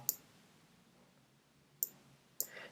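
Three sharp mouse clicks on an Excel ribbon's table icon, one near the start and two close together about half a second apart later, crisp and close against a quiet room.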